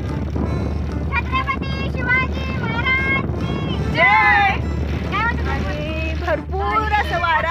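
Strong wind at a high lookout point, a steady low rumble of gusts buffeting the microphone throughout, with people talking loudly over it.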